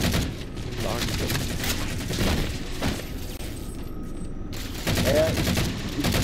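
Gunfire in the video game Halo 4 during a cooperative Legendary run, a dense, sustained rattle of shots under a busy game mix, with players talking over it.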